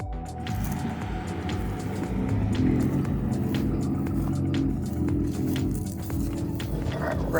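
A Steeda Ford F-150 Raptor on 37-inch tires with a 2.5-inch lift rumbles off-road, its engine a deep steady growl that swells slightly, with scattered clicks and rattles from the suspension and terrain.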